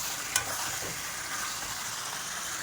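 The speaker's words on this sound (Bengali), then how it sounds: "আমি এখন মিক্স করে দিলাম মশলা দিয়ে চিকেন দিয়ে" Chicken being stirred into a spice masala in a hot pan for chicken kosha, giving a steady close sizzle with a brief scraping stir near the start.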